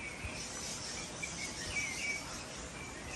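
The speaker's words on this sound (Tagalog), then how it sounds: "Daming ibon dito." Insects and birds chirp steadily in a rural Philippine forest, a dense, continuous high chorus of calls and trills at moderate distance with no talking.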